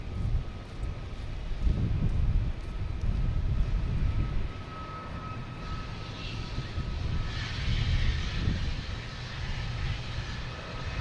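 Jet airliner taking off at Boston Logan Airport, a deep, loud engine roar that builds and swells from a distance before settling into a sustained rumble and whine, with no voices.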